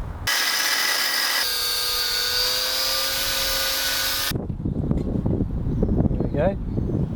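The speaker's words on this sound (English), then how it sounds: "all the bolts holding this on have seized, so I'm going to cut them off" A power tool cuts through seized bolts on a small speedboat's old masthead, giving a loud, steady high-pitched whine that drops in pitch partway through and then stops abruptly, leaving clattering handling sounds.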